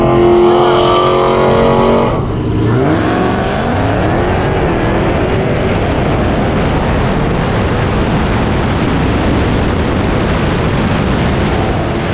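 A loud car engine roars nearby and rises in pitch as the car accelerates and speeds past, with the engine noise continuing steadily afterward.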